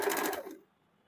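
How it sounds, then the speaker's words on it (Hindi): A sewing machine running a quick burst of stitching on a kurti cut from a saree, loud and close, stopping abruptly after about half a second. "अभी इसको इस प्रकार से चाप सिलाई भी चला देंगे।"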